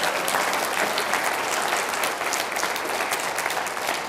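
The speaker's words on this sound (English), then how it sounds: "Give that student body a round of applause for having the courage to do that." A crowd gives sustained applause at an assembly, a thick wash of many hands clapping at once. It stays loud and even for about four seconds, with no speech over it.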